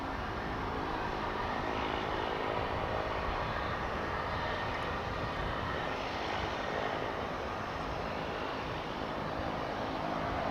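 Cessna 208B Super Cargomaster turboprop, built in 1995, at Dallas/Fort Worth Airport, producing a steady, continuous engine drone that holds at an even level throughout with no talk.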